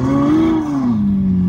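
A free phone app plays a simulated Lamborghini engine, a loud, continuous synthetic engine tone that rises in pitch as it revs and then sags back down within a second or so.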